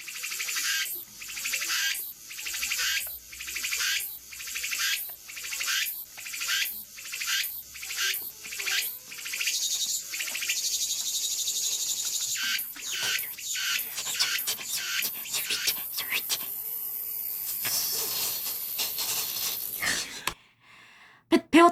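Cicada songs play as a series of loud, pulsing buzzy calls repeating at a steady rhythm, then shift into a denser, continuous shrill trill before stopping abruptly.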